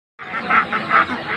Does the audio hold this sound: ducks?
yes